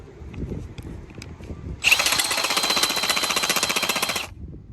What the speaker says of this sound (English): Sounds more like a jackhammer.